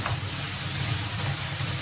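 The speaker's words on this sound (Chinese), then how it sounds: "把泡辣椒炒出香味，再放入蒜末、姜末，继续翻炒出香味" Pickled chili, minced garlic and ginger stir-fried in a wok for eggplant with garlic sauce, giving a steady close sizzle with soft scraping of the stirring throughout, with no talking.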